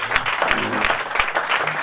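A church congregation gives a brief burst of applause and cheering for the Lord, dense and steady throughout the short moment.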